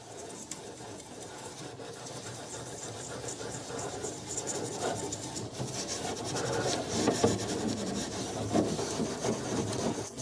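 Gilded furniture grid being polished by hand, a continuous close rubbing and scraping that grows slightly louder toward the end, with faint background noise.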